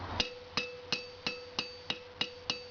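A 1.5 kg flat-faced hammer strikes an antique wrought iron vice pin on an anvil, straightening it: eight evenly spaced, ringing metallic blows with a sustained high anvil tone, close and clear.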